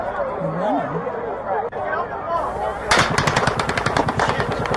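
Rapid bursts of automatic gunfire crackle in a steady stream from a distance over a crowd, during the Las Vegas shooting, with the murmur of people talking and crowd noise.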